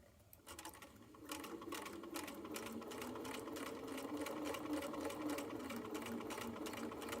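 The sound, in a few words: sewing machine topstitching a fanny pack flap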